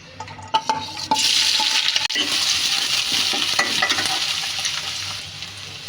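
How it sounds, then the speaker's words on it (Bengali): Chopped onions hit hot mustard oil with a sudden loud sizzle after a few light clinks. A dense, steady frying hiss then continues close up to the end. "তেলটা আমি গরম হতে দিব। আমি পেঁয়াজ কুচিগুলো রেখেছি কেটে, আমি এগুলি দিয়ে দিব।"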